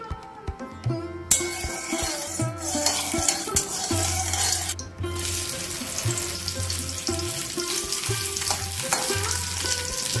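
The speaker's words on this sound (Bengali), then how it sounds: "কড়াই গরম হয়ে গেছে, আমি কড়াইয়ে তেল দিয়ে দিচ্ছি।" Oil sizzles and spits in a hot kadai (wok) for a Bengali home meal, a steady loud frying hiss running throughout with metal clinks and stirring knocks, a sharp burst of sizzle partway in as food hits the oil.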